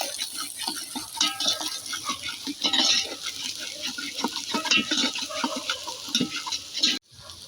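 Coriander powder and spices stirred in a hot pan for Kolhapuri mutton curry: scraping and stirring over a constant sizzle, with irregular clinks and scrapes throughout and an abrupt stop at the end.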